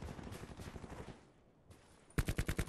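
KN-57 rifle firing in Call of Duty Black Ops 4, rapid automatic bursts of gunfire with a brief lull, ending in a sharp, louder string of shots.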